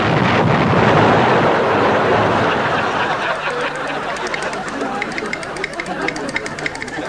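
Explosion sound effect from a UK comedy series: a loud, broad roaring blast that starts at full force and slowly decays into a fading rumble over several seconds.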